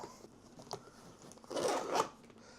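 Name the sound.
zipping up Litheli FrozenPack backpack car fridge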